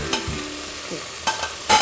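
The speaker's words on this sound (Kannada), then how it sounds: "ನೋಡಿ, ಇವಾಗ ಚಿಕನ್ ರೋಸ್ಟ್ ಆಗ್ತಾ ಇದೆ." Chicken for biryani roasts in a hot pan, a loud close sizzle broken by a few sharp stirring scrapes near the start and end.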